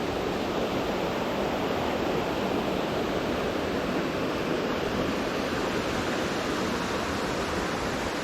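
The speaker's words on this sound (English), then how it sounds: "And we'll move up here to the waterfall." Steady, loud rushing water roars continuously with no pauses or voices, a dense broadband wash from nearby Darnell Creek Falls.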